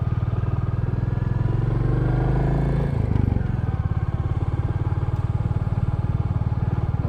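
Royal Enfield Classic motorcycle riding off-road in second gear, its single-cylinder engine thumping steadily up close and loud, with a brief shift in tone partway through and then a steady pull.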